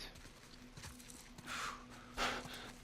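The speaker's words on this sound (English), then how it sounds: "Let's get to the damn horse." A horse in The Last of Us Part 1 gives two breathy snorts, near and fairly clear, over faint hoof clip-clop and low background game ambience.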